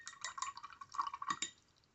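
A brush swirls water into watercolor paint in a small palette, producing soft wet dabs and light clinks in a quick irregular run that fades out after about a second and a half, quiet and close.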